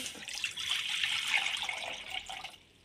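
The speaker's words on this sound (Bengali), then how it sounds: "আমি আগে থেকে কড়া বসিয়ে রেখেছিলাম, পরিমাণ মতো জল দিয়ে দেব" Water pours steadily into a kadai set on the stove for cooking cauliflower and potatoes in a Bengali fish curry, a close, continuous splashing stream lasting nearly three seconds before it stops.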